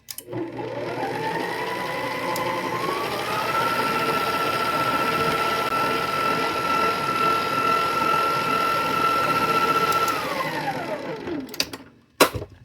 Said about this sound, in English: we are going to mix this beat on low speed, gradually increasing to high until completely combined, about 2 minutes